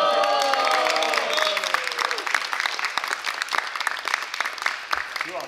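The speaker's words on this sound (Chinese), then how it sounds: "大家鼓掌" A theatre audience applauds and cheers at the first performance of a stage play. Whoops and shouts ride over the clapping early on, then dense, crackling applause carries on alone.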